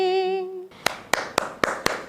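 Five sharp hand claps in an even, unhurried rhythm, close and distinct, following a sustained sung or musical tone that cuts off just before them.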